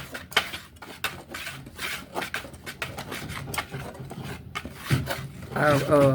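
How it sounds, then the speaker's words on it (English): Dry biscuit ingredients with flour, salt and baking powder being whisked in a bowl, a quick run of close scratchy strokes and taps against the bowl, with a voice briefly near the end. "now I'm going to whisk all of these ingredients in real good"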